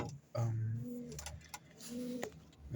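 Young pigeons coo nearby in low, throaty rolling calls, two distinct coos with softer bird sounds between, fairly close in a quiet space.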